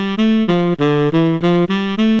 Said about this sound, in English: The next sound is a little saxophone